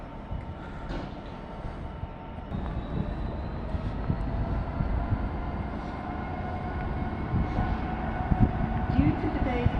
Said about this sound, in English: The next train to arrive at platform 3B, 3 coaches.